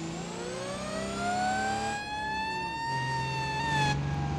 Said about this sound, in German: Und natürlich die Sirene.